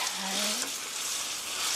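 Garlic frying in olive oil for spaghetti aglio e olio, a dense steady sizzle close by, with a brief tonal squeak or scrape from the pan near the start.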